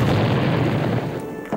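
A deep, sustained roar from a napalm explosion rumbles loudly and continuously, rich in low rumble, then eases slightly near the end with no voices.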